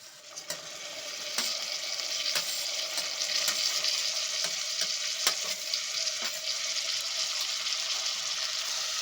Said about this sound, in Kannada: ಟೊಮ್ಯಾಟೊ ಎಲ್ಲ ಚೆನ್ನಾಗಿ ಫ್ರೈ ಆಗಲಿ